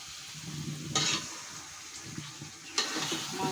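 Meat drops into spice paste frying in a pan, giving a steady sizzle with two louder bursts of hissing as pieces hit the hot oil. The sound is close, with no talk.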